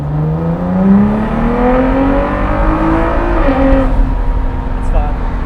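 A Ford GT fitted with a titanium exhaust revs, its engine note climbing and falling in smooth sweeps, loud and close, with a brief dip before rising again.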